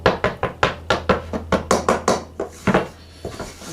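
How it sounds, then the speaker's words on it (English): A spoon stirs pizza dough in a bowl, a rapid run of sharp knocking scrapes against the bowl in a steady rhythm, close and loud, slowing toward the end with no talk. "is just stir it around till it starts forming a loose, rough kind of a ball"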